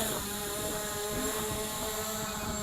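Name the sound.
SJRC F11 Pro drone motors during automatic takeoff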